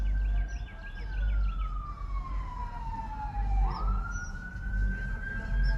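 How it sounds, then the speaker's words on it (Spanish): An ambulance siren wails loudly as it passes, its tone sliding down and then jumping back up, over a steady rumble of traffic. "La ambulancia ahí viene, no trae buenas noticias. Cuando escuchamos esas sirenas"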